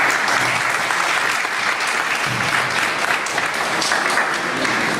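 An audience applauds after a talk, a dense, steady wash of clapping that holds at full loudness throughout.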